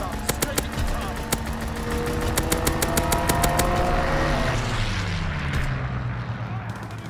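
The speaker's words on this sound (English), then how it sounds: "Fighter pilot inbound, strafing the target." Strafing-run gunfire from a fighter plane in Call of Duty: WWII, with rapid sharp bursts of shots cracking over a droning engine that sweeps downward as the plane passes and fades. A voice speaks under the action.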